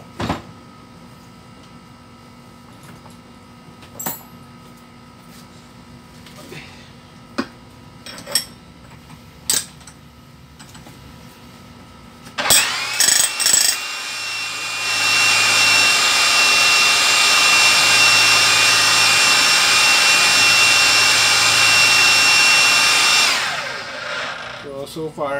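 A Hilti TE 1500-AVR demolition hammer, tested for a weak-hammering fault, roars in a long, loud, steady burst of about ten seconds. Scattered clicks and clanks of handling come before it starts.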